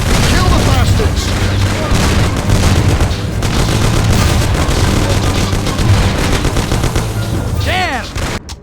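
A shootout in the video game Mafia erupts into loud, continuous gunfire with rapid cracks and bursts, while voices shout over the shots before the firing dies away at the end.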